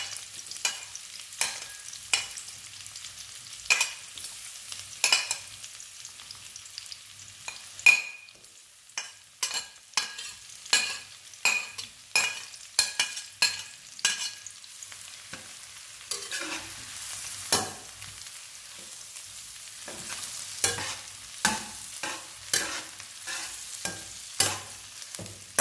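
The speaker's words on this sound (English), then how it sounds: "Add the garlic, salad, cayenne pepper, scallions, and sausages, then stir fry until wilted." Garlic, cayenne pepper, scallions and sausages stir-fried for fried rice crackle and hiss in a pan, with a steady run of spatula scrapes and clacks every second or so, close and clear with no talking.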